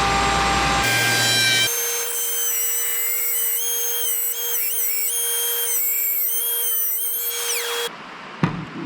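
A router table with a dovetail bit cuts along a wooden breadboard, giving a loud, steady high whine as the wood is fed through, then spinning down near the end with no talking.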